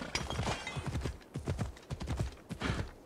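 Horse hooves clip-clopping in a steady, galloping rhythm as a rider steers along the side of a path in the video game Assassin's Creed Odyssey, loud and close, with a brief whinny and no talk.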